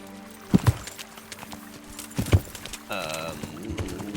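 Horse hooves clip-clop while riding in the medieval video game Kingdom Come Deliverance, a few thudding hoof hits against game music that swells partway through.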